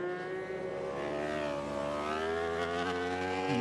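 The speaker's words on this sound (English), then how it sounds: "that's a lovely sound from the cross-plane Yamaha engine" A Yamaha cross-plane race motorcycle engine in an endurance race at Suzuka howls as it passes, its harmonic tone sweeping down and back up in pitch as the rider moves through the gears, loud and without talk over it.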